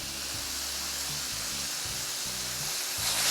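Steak bites for chimichurri sizzle hard in a hot pan just after being flipped, a dense continuous hiss with crackling spatter, close and loud throughout.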